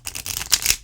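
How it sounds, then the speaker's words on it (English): A new, stiff tarot deck is shuffled in a quick riffle, close and crisp, with rapid papery flutters and a couple of sharper snaps near the end. "They shuffle all right. They're a little stiff, but it's new deck stiff."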